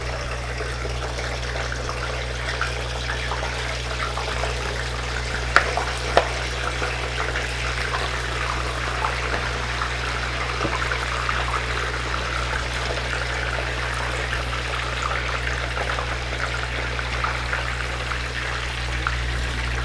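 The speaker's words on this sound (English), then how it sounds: "So you gently put your chips in the oil." Chips sizzle steadily in hot oil in a frying pan, a constant dense hiss and crackle running evenly throughout at close range, with no talk over it.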